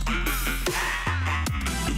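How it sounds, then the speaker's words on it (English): Mid-bass synth sounds playing within a music mix, with thick sustained low tones that shift pitch in short gliding phrases, loud and dense with no talking. "if I had these kind of mid-bass sounds here that sound like this."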